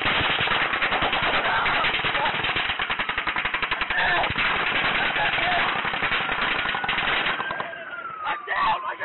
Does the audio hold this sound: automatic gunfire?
yes